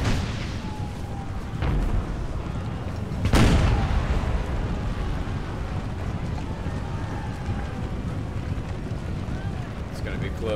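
Mortar artillery fires on an American Civil War battlefield in a game, with one sharp, loud report standing out and a few fainter distant thumps over a constant windy battle rumble.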